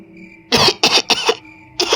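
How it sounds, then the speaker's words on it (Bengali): Cartoon-style coughing comes from inside a shop: four dry, harsh coughs, the first three in quick succession, then a short pause before the last, close and clear against near silence. "ভেতর থেকে কুক কুক কাশির শব্দ ভেসে আসে"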